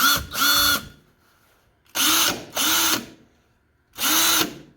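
A Ryobi cordless drill whirs in short bursts, two close together then a third after a pause, loud and close with a rising motor pitch.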